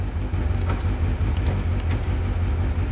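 A Honda S2000 on a dyno holds a steady, loud low engine rumble as it moves off in gear, with faint higher mechanical whines over the drone.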